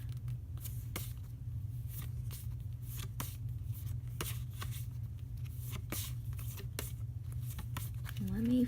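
Templar Tarot cards are flipped through one after another, producing a steady run of crisp, close snaps and riffles over a low constant hum.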